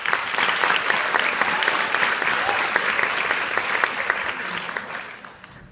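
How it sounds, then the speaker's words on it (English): Large youth audience at a girls' state mock-government assembly gives a sustained round of applause, thick and even clapping that fades out in the last second. "I'd like to give a round of applause for everybody who wrote a bill"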